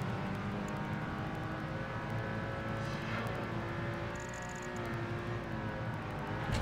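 Engine drone of a sports convertible racing in Project Gotham Racing 2, a steady loud continuous hum with shifting harmonic pitch as the car holds speed, no talk.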